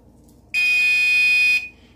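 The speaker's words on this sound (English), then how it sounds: "I just preheated the oven to 300, so that was that beep." An oven beeps after preheating to 300 degrees: a single loud, steady electronic tone lasts about a second, then stops cleanly, with a quiet background and no talk.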